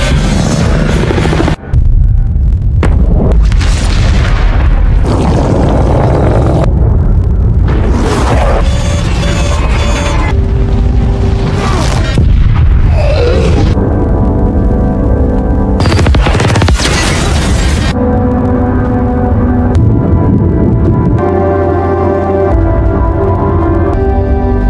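Loud cinematic explosions and booming blasts from the film The Gorge hit in sharp bursts, mixed with gunfire-like cracks and heavy rumbling, with no voices.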